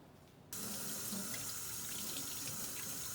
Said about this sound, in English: Now we're gonna wash our hands.